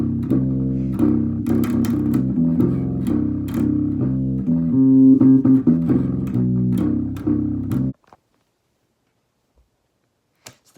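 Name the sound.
bass guitar playing chorus bass line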